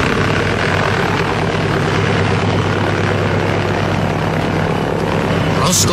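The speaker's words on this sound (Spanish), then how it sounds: "Rosco controló el timón y la pequeña avioneta levantó el vuelo rápidamente." A small propeller airplane takes off, its engine giving a loud continuous drone that fills the whole stretch and rises slightly near the end.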